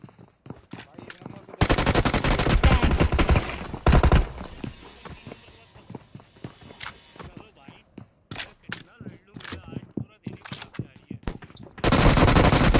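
Gunfire in the BGMI battle royale video game: loud bursts of automatic weapon fire, with a long sustained volley early on and another at the end, separated by quieter shorter shots and game sounds, with voices talking in between.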